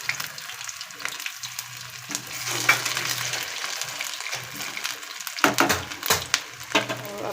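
Aloo tikki patties frying in a pan on a gas stove after being flipped, giving a steady close sizzle with soft crackles and a few scraping knocks toward the end.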